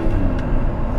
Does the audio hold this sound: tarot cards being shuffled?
no